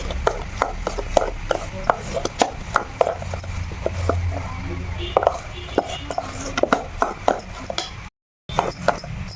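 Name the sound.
mixing Oreo cake batter with Eno and milk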